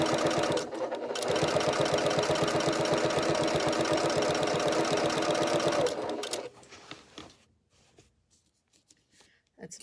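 Sewing machine stitching a seam on pants, a rapid, steady mechanical whirring for about five seconds that stops abruptly, followed by quieter handling clicks and rustling.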